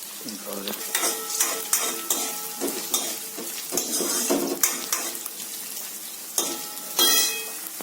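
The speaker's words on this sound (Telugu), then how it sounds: "ఉల్లిపాయలు లైట్ బ్రౌన్లోకి వేగిపోయాయి నూనెలో" Onions frying light brown in oil in a pan, with a continuous close sizzle broken by repeated scrapes and knocks of a spoon stirring them.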